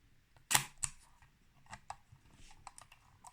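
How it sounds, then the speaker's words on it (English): A screw thread Leica camera being cocked and fired, one sharp loud shutter release followed by a series of smaller mechanical clicks and winding ticks, close and isolated. "if it's a Leica, cock the shutter first, like so"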